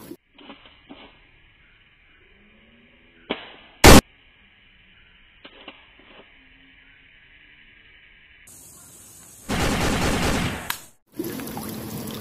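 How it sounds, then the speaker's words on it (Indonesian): A toy Glock pistol fires sound effects: a sharp bang stands out amid faint electronic beeps, followed later by longer bursts of loud noisy crackle. "yang ini Glock pistol"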